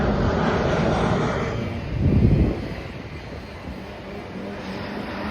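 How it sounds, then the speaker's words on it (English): Airplanes flying low overhead in San Diego give a broad, steady roar that swells briefly, loud and close, mixed with gusty wind noise and no talking. "Look how close the planes are flying here"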